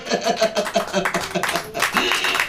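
Hands clap steadily under loud singing or preaching at a Hindi church service, with musical tones running throughout.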